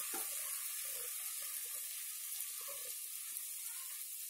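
Tomato pieces frying in a pan for a chole masala, a steady close hiss and sizzle with a constant level throughout and no talking.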